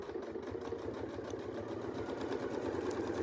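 A sewing machine stitches along a Westalee ruler, its needle running in a fast, even mechanical chatter that stays close and steady throughout, alone without speech.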